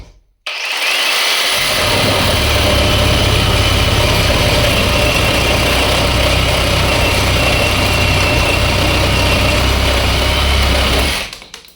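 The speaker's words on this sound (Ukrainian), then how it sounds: "Пробуємо, як буде різати сухого граба на 2 амперному акумуляторі." A cordless GTM RS18/150BL reciprocating saw on a 2 Ah battery cuts dry hornbeam in one loud, steady, continuous buzzing run of about eleven seconds, with no talk over it.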